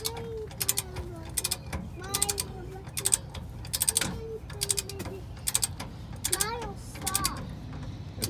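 A torque wrench ratchets a top shock bolt back in on a 2013 Chevrolet 3500 LML diesel truck, set to 33 foot-pounds, giving repeated short clicking bursts up close, with a bird cooing in the background.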